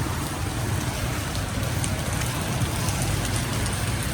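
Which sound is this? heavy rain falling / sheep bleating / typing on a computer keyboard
heavy rain falling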